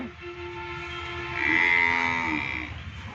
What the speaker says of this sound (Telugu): ఇదిగోండి ఆవులు ఉంటాయి మరియు గేదెలు కూడా ఉంటాయి